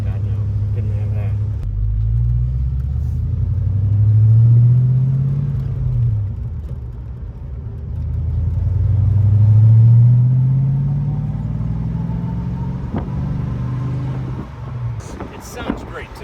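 A 1989 Ford Mustang convertible's engine and exhaust rumble deeply, swelling twice as the car accelerates and easing back between pulls, heard close with people talking over it.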